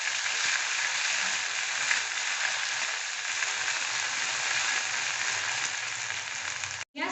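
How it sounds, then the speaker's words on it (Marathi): Onion, garlic and ginger masala paste frying in hot oil on medium heat for a rural-style mutton curry, a steady loud sizzle running unbroken with only a brief dip near the end. "तो चांगला भाजून घेऊ आता तेलात."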